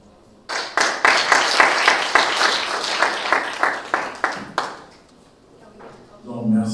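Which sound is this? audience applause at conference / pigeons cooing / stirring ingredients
audience applause at conference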